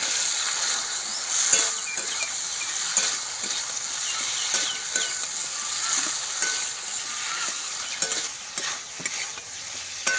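Cut potatoes go into spices frying in a pan, giving a steady, close sizzle broken by repeated scraping stirs and light clicks of the spoon.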